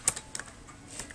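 Several quick, light keystrokes tapped on a computer keyboard, close and clear, in a short burst with no voices.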